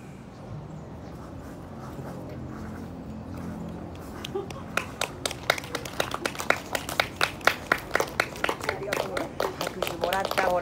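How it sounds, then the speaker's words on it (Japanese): Audience applause for a monkey performance by the Nikko Saru Gundan street troupe at Asakusa Shrine, beginning as scattered claps over crowd murmur and building into louder, denser clapping toward the end. "拍手もらったほらねえ"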